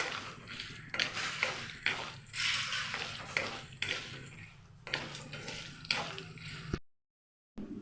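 Lentils frying in a pan for semolina upma, close sizzling and crackling in uneven bursts with soft stirring squishes, cutting to silence briefly near the end.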